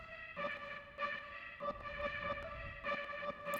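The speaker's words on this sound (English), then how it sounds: "we've got this sort of background stuttering sound" Chopped, manipulated samples form a stuttering, pulsing tonal texture that keeps breaking off and restarting in rapid bursts, sitting quietly in the background of a pop track built in Ableton Live.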